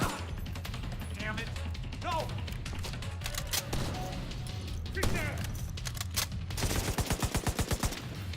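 Sustained suppressive gunfire in the video game The Division 2, dense rapid automatic bursts running throughout and ending in a fast rhythmic volley, with other voices and game sounds mixed in.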